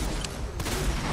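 Assault rifle fire in a video game, a brief loud burst of shots with a sharp crack near the middle, close and dense with no talk over it.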